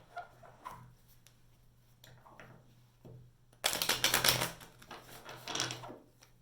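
Tarot cards being riffled and shuffled up close: scattered soft taps, then a burst of rapid fluttering riffles, followed by another quieter shuffle.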